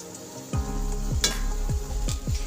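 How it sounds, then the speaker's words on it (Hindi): Tomato and green chili paste with ginger-garlic paste frying among onions in a pan for a pea curry, a steady sizzle punctuated by several soft stirring scrapes, close and alone. "इसे भी प्याज के साथ फ्राई कर लेती हूँ।"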